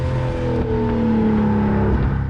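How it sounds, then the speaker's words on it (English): A Porsche 928 V8 burbles steadily, with a deep, even exhaust rumble that holds a constant pitch. The engine note stays loud and close throughout, with no talking. "A 928 simply wouldn't be a 928 without that characteristic V8 burble and roar."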